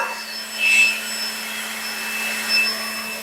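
A Ryobi battery-powered leaf blower running at a higher power setting gives a steady, close whooshing roar with a constant motor hum and slight surges in airflow.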